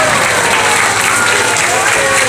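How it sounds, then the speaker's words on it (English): Audience at a bear show applauds in a loud, steady burst of crowd clapping throughout. "he'd like a little more applause"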